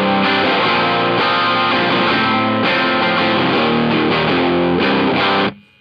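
Electric guitar in drop C tuning, played through an EarthQuaker Plumes overdrive pedal, rings out loud, thick and distorted in sustained chords with brief breaks between phrases, then cuts off abruptly.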